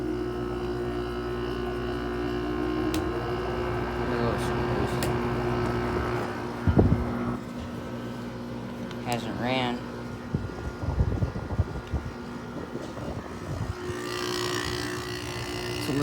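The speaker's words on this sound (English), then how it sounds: "Oh my god, that compressor sounds a little angry." A Haier 5,200 BTU window air conditioner runs its rotary compressor with a steady loud hum and tonal drone, harsh and strained, with some clunks and shifts partway through while a person talks over it.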